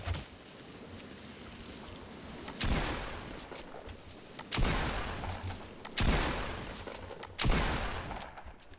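Shotgun blasts in a video game, four loud booming shots spaced about one and a half seconds apart, each with a rumbling tail that fades before the next, with no talking.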